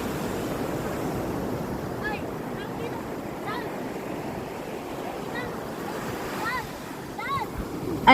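Sea waves wash onto a beach at sunset in a continuous rushing roar, with wind buffeting the microphone and a few faint high chirps above the surf.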